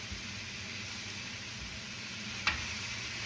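Vegetables sauté in oil in a pan, giving a steady, soft hiss and sizzle with a faint crackle near the end, close by and without talk.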